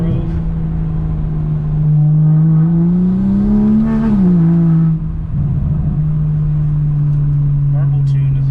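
Engine of a BMW E92 in sport mode droning up through a steady rev rise, peaking and dropping back to a loud constant hum, heard from inside the cabin with a voice talking over it.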